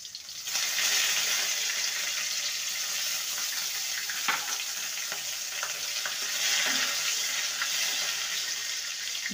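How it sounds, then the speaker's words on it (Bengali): Neem leaves fry in hot oil in a pan, giving a steady, dense sizzle that runs unbroken throughout, with a few faint clinks of a utensil. "নিম পাতাটাকে ভালো করে ভেজে নেব।"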